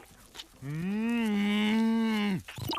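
A single long cow moo in the cartoon Robotboy, low and drawn out, close and clear, with brief faint sounds before and after.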